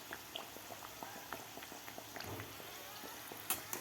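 Pea kachori frying in a pan of hot oil, a soft, fairly quiet bubbling and crackle with small irregular pops, steady throughout and close by.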